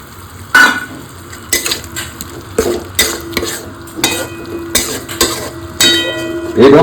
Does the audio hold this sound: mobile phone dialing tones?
no